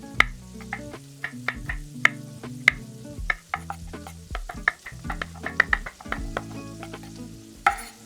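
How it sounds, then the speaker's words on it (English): Shredded beef browning in a hot pan sizzles steadily with frequent sharp pops and crackles, heard up close without talk, over low steady tones that sound like background music. "We have one side browned for the shredded beef sandwiches."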